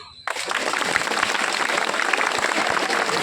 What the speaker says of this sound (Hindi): सबसे पहले आप लोग अपने लिए ताली बजाइए